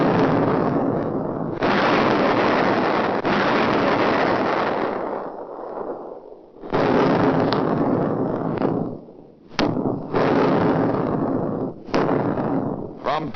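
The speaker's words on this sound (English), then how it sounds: "From tiny Anubuj Island, just west of Kwajalein, U.S. artillery pounds the objective at almost point-blank range." Wartime artillery from a small island pounds Kwajalein at almost point-blank range: heavy, repeated booms and sustained rumbling barrages, loud and close, with a narrator talking over much of the bombardment.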